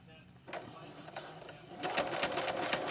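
A sewing machine running a zigzag stitch to join strips of a rectangular rug. After a brief voice, it whirs in quick close bursts that grow louder and denser toward the end.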